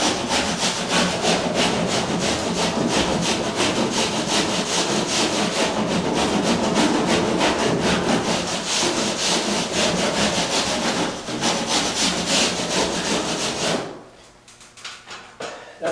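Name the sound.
rasping sheetrock edge at an angle with a rasp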